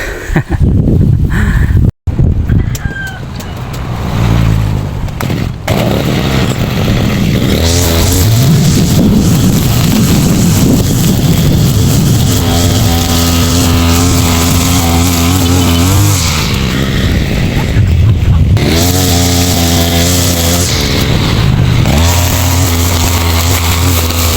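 A grass cutter engine runs hard and loud for the whole stretch, its motor pitch rising and falling as it is pushed and revved, with a brief cut near the start.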